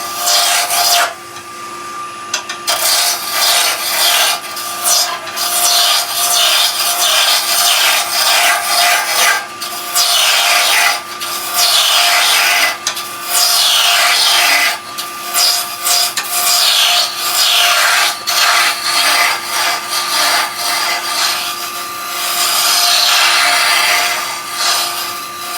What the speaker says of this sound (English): we're now going to rough it down with a roughing gouge again